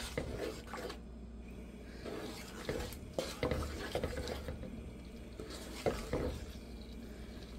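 Roast meat being stir-fried with ginger garlic paste in a pan, faint low sizzle under repeated scraping and clattering of a spatula against the pan, rhythmic and close.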